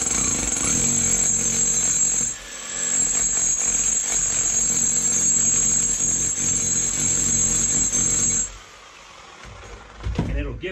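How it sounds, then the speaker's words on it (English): Power chisel scoring a stone hearth slab while cutting and laying a stone fireplace: a steady, loud buzzing grind runs for about eight seconds with a short dip early on, then cuts off and leaves a quieter tail. "I'm gonna use this power chisel and I'm gonna score this stone all the way around"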